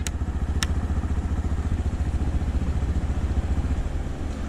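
A Honda Dio scooter engine with start-stop, heard close as a steady, rhythmic low putter that begins with a couple of sharp clicks and keeps running evenly.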